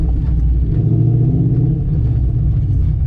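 A Coyote-swapped Ford Mustang drives along a road, its engine a steady low rumble throughout while the loose battery box, its nut seized on the stud, rattles faintly from the rear.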